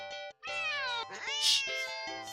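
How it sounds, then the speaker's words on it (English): A video game cat lets out a series of sharp, drawn-out meows, loud and close, one after another with barely a pause, one cry rising into a strained caterwaul. "the cat meows sharply at you"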